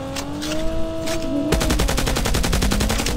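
Rapid automatic gunfire in the Call of Duty Mobile battle royale game bursts in halfway through, a loud, dense stream of shots following quieter game ambience with a tonal hum.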